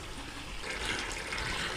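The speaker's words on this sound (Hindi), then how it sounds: "मैं इस टाइम इसमें पानी शामिल करूँगा" Water poured into a chicken and potato curry in the pot makes a steady rushing, splashing pour, close and fairly loud throughout.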